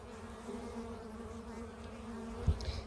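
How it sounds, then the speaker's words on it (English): Honey bees buzz steadily around an open top-bar hive, a continuous low drone of many wings close by, with a couple of brief thumps near the end. "I got bees going up my shirt on the inside."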